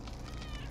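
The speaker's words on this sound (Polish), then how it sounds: "Słyszałem kota!" A cat meows once, brief and quiet, within the Flashing Lights firefighter video game, a short tonal cry over a low background hum.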